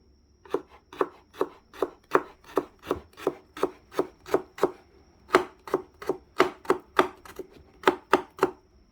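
Onion, chili and carrots chopped with a knife on a board for spaghetti bolognese: about twenty crisp, evenly spaced strokes, close and clear, with a short pause midway and no talking.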